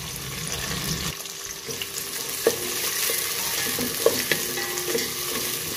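Sliced onions with green chillies and curry leaves frying in a pan for egg pulao, a steady close sizzle with occasional scraping knocks as they are stirred, no talking.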